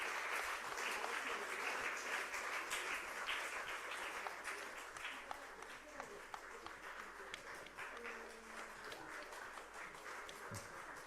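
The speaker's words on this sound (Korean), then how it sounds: "네, 박수로 축하해 주시기 바랍니다." A church congregation applauds during an evening service scholarship ceremony, a continuous crowd clapping that sounds somewhat distant and gradually thins toward the end, with faint murmuring underneath.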